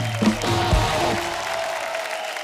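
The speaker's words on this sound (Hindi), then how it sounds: "जोरदार तालियां गायत्री और पुष्कर के लिए।" Loud applause from a TV show studio audience greeting directors Gayatri and Pushkar, a dense burst that stays steady and then slowly fades over a couple of seconds.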